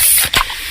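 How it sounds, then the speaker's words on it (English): A freshly opened can of fizzy Pepsi hisses alone, a short close spray of carbonation with a brief burst in the middle. "that's the sound of a freshly opened fizz-filled Pepsi"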